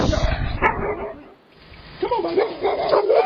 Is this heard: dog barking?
yes